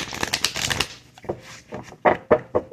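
Close, crisp riffling of an oracle card deck in several bursts, followed by a few separate sharp shuffles and flicks, with no talking.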